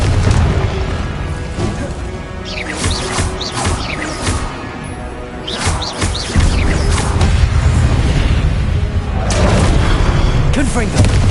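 Confringo blasting spells explode again and again in Hogwarts Legacy, giving loud booming bursts and crashes amid combat effects, with a voice calling out spell names over the action.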